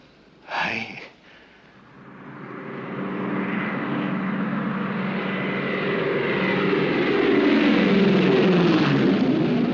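Propeller engines of an arriving airliner drone nearby, swelling from a low hum into a loud, sustained roar, with a brief burst of sound near the start.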